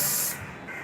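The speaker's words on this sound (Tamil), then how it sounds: "டியோட்ரண்ட் வச்சு நம்ம க்ளீன் பண்ணோம் அப்படின்னா அது நல்லாயிடும்." A short, loud hiss of deodorant spray blasting onto an oily gas lighter to clean it, cutting off after a fraction of a second.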